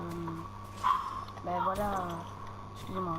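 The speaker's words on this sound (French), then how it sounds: "c'est mon chien qui gueule" A pet dog yips and barks in short, high, whiny bursts close by, overlapping someone speaking French indoors.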